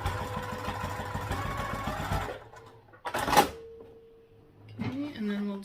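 A sewing machine back stitches fabric at the top and bottom of a seam on a crossbody bag, a steady mid-pitched mechanical whir that runs, pauses, then gives a sharp clunk and a short hum as it restarts, close by.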